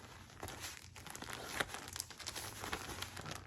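Plastic mailer package from a clothing haul being torn open and handled, with steady crinkling and crackling of thin plastic and a few sharper rips, close and fairly quiet throughout.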